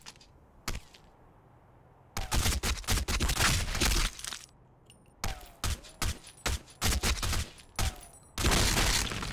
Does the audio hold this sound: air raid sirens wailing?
no